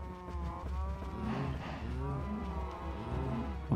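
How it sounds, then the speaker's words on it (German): Cows in the Minecraft modpack Agrarian Skies moo over one another in a steady, overlapping chorus. The herd sounds crowded and close, with a low drone underneath. "momentan sind es mir doch ein bisschen zu viele Kühe"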